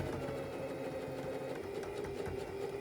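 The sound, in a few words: sewing machine stitching hem of skate cover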